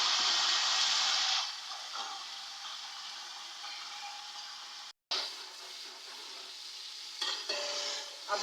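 Water poured onto browned onions in a hot pan sets off a loud, sharp sizzle that drops to a quieter, steady hiss once the lid goes on, with brief clatters near the end.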